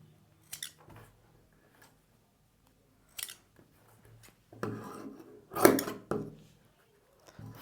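Scissors snip through blouse lining fabric along a marked armhole curve, giving several short crisp cuts and rustles at close range, spaced irregularly with quiet gaps between.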